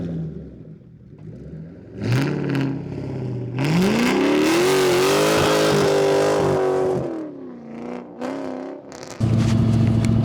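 A 1996 SN95 Ford Mustang SVT Cobra engine revs hard while driving, the pitch climbing through a long pull before easing off, then dropping back to a rough idle drone with whine and road noise.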